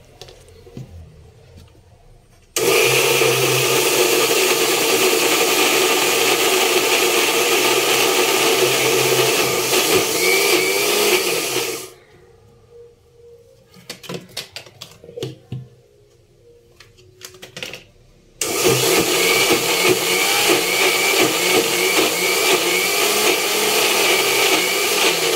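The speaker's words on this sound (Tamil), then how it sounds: "அளவில் நல்லா அரைச்சி எடுத்துக்கோங்க. நல்லா ஃபைன் பேஸ்ட்டாக அரையணும்." A kitchen mixer grinder whirs loudly as it purees banana into a fine paste, running in two long bursts with a quiet gap of clattering and jar handling between them.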